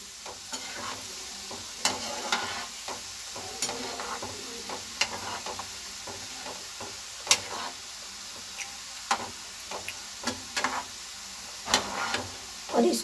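Besan masala peanut pakoras fry in oil over a slow flame, giving a steady soft sizzle broken by sharp crackles and occasional stirring clinks, close and without talking.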